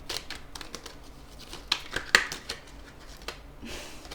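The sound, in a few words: shuffling tarot cards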